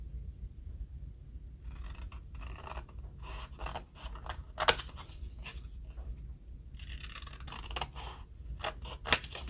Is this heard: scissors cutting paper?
yes